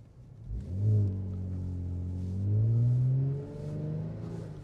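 Kia Stinger AWD accelerating from a stop in snow as its wheels try to spin, engine revving up in two rising surges with a brief ease-off between, close and loud from inside the car.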